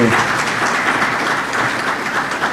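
Audience at a laureates' award ceremony applauding, a dense, steady wash of many hands clapping that fills the room evenly at moderate loudness, with no voices standing out.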